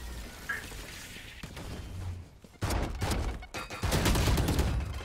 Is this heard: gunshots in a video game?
yes